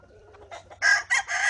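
Gamecocks at a fighting-rooster farm crow loudly and close by in repeated bursts after a few softer clucks, with a low steady hum underneath.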